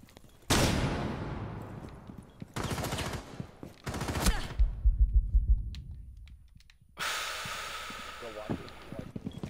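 Unsuppressed rifle fire from Ash's weapon in Rainbow Six Siege: several loud, close automatic bursts separated by short pauses, each a rapid string of sharp cracks, with a final burst at the end.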